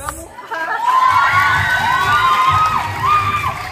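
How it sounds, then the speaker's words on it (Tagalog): Crowd at a gay beauty pageant cheering loudly, with high-pitched shouts and whoops rising and falling in repeated swells over a continuous roar, fairly close and loud. "Kaya sabay-sabay po natin palagpakan at hiyawan si Binibining Christine Reyes."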